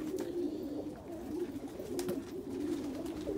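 Homing pigeons coo steadily in a loft after an ice storm, a low continuous murmur of several birds layered together with soft shuffling, close and moderately loud throughout.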